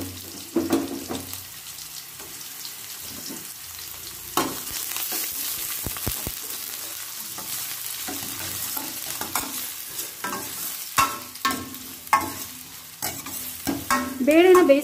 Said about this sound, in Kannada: ನೋಡಿ, ಇವಾಗ ಈರುಳ್ಳಿ ಹಾಕ್ಕೊಳ್ತೀನಿ, ತಣ್ಣಗೆ ಎತ್ತಿಟ್ಕೊಂಡಿದ್ದೀನಿ ಈರುಳ್ಳಿನ.